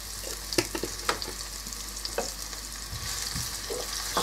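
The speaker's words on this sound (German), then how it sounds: "Schön alles verrühren." Onions with thyme frying in a pan are stirred, giving a soft continuous sizzle with several scraping clicks of the spoon, close and moderately quiet, no talking.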